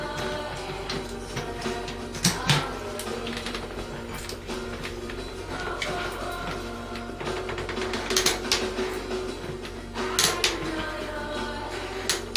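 Ratcheting clicks and metallic mechanical ticking from a torque wrench turning a cassette removal tool on a bicycle cassette, steady and close, with a few sharper clacks.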